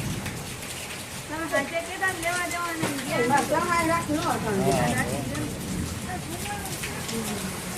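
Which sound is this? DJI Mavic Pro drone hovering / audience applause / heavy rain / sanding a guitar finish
heavy rain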